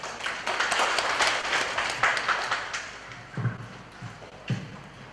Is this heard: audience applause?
yes